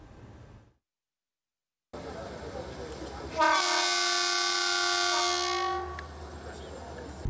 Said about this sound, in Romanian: La ora 10, trenul Connecting Europe Express a ajuns în Giurgiu